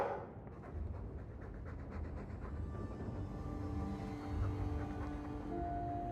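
A Mabari war dog from the Dragon Age 2 video game pants in a steady, soft rhythm, close but quiet over a low background hum. No one talks.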